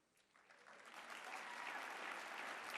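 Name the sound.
audience clapping at a speech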